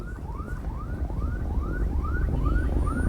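Ambulance and police car sirens wail at a bus and truck crash site on a toll road, a steady repeating rising whoop cycling about every half second over loud traffic rumble.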